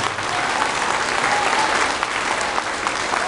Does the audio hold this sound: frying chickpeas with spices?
no